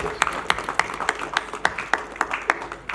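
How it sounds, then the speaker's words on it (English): Scattered hands clap for a minister's representative at an unveiling event, a sparse group of distinct, fairly close claps in a loose rhythm over a quiet room. "A round of applause for the representative of the minister."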